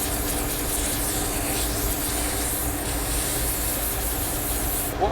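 A saw handle blank is sanded with 120 grit abrasive, a loud continuous rough rubbing rasp with an extractor fan whirring underneath, ending abruptly.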